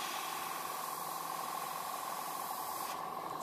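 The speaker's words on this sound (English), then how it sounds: "Hope the compressor's not too noisy while we're doing this." An airbrush compressor used for painting scale models runs close by with a steady, droning mechanical hum and an airy hiss, unbroken and alone for a few seconds.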